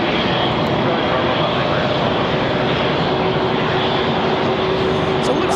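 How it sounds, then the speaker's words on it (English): Airbus A319 jet departing Raleigh-Durham airport, a steady broadband engine roar filling the whole stretch with a faint rising whine, loud and continuous, with no voices over it. "Delta 1275 was our last departure, that A319 off to Tampa."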